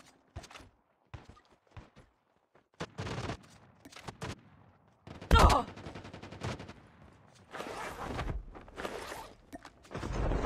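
Gunfire in a video game, with sharp single shots and short bursts spread through the clip, separated by quiet gaps, one louder blast near the middle.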